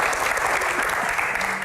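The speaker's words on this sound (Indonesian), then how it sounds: "Senyum dong, tepuk tangan." Audience applause fills a Q&A session with Indonesia's Minister of Manpower, a dense, steady wash of many hands clapping at once, holding evenly loud for under two seconds.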